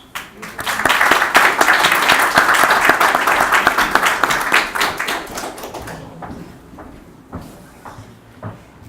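An audience bursts into applause welcoming a speaker to the stage, a dense wash of clapping that swells quickly, holds for several seconds, then thins out to a few scattered claps.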